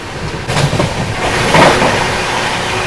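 Passing train on a parallel track beside the Humsafar Express, a rising rumble of wheels and rail noise swelling in after a quiet start, steady and fairly close.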